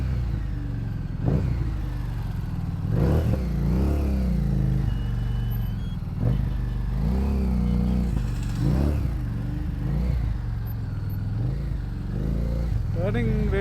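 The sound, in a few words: Harley Davidson Street 750 motorcycle engine riding in traffic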